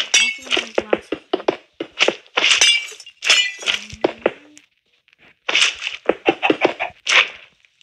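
Glass blocks being placed in Minecraft, a quick series of sharp glassy clicks and clinks in irregular bursts with a short pause midway, close and fairly loud, no talking.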